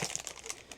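Small plastic bags crinkling during a tidy-up of a small camper van, a short burst of soft rustles and crackles, close and fairly quiet, with no talking.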